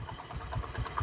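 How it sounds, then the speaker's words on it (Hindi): A Honda CD 70 motorcycle engine idling up close, a steady low throbbing pulse with a rapid, even rhythm. "ये इसके इंजन की आवाज़ है।"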